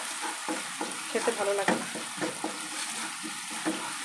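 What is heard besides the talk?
stirring ginger-garlic paste frying in a pan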